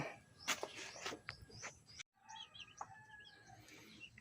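Broiler chicks chirp in quick, thin, high peeps that come in short bursts, fairly faint, with a brief silent gap partway through. No voices.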